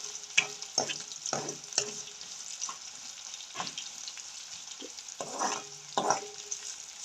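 Crab curry ingredients sauté in a hot pan, a soft continuous sizzle broken by sharp scrapes and stirring strokes at an uneven rhythm, close and without talk.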